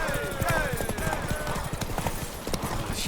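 Horse hooves clip-clop at a steady trot in The Witcher 3 video game, a rapid patter under game dialogue and background noise.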